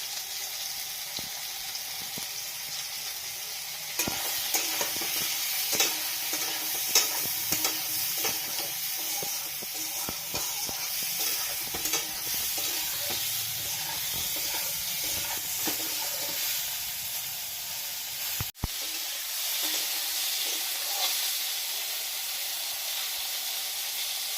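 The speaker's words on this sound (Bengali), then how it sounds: "সয়াবিনটা ভাজা হয়ে গেছে, আমি এখন তুলে নিচ্ছি।" Soya chunks fry in oil seasoned with salt and turmeric, giving a steady, close sizzle and hiss throughout with occasional stirring clicks and no voices.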